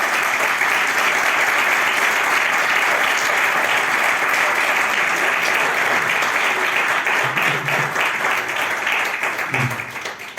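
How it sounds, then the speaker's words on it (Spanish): Audience applause at the close of a talk on the crime of rebellion, dense sustained clapping from a room full of people that begins to thin and fade near the end. "pido un aplauso para nuestro"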